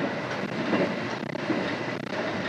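Steady, dense rumble and rolling rail noise heard from inside the soundproofed Argo Semeru executive train on the southern Surabaya–Jakarta line as it speeds straight through a station, continuous and fairly loud with no talking.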